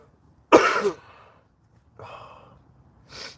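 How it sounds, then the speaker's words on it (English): One loud, harsh cough close by from a person with a chest infection, followed by a softer throat-clearing cough and a short breathy exhale. "I do apologise with all the coughing"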